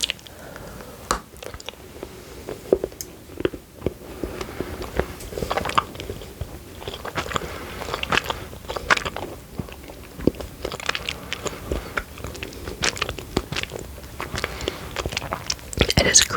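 Crisp snapping and steady crunchy chewing of a Tony's milk chocolate bar being broken and eaten, close up throughout, with soft talk woven through the bites.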